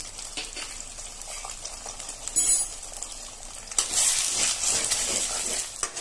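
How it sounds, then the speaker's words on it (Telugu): Eggs seasoned with salt and pepper powder fry in hot oil for egg fried rice, a close sizzle with louder surges as they hit the pan, plus stirring and clinks of cookware. "ఇలా బాగా మిక్స్ చేసుకుని ఇలా ఫ్రై చేసుకోవాలన్నమాట"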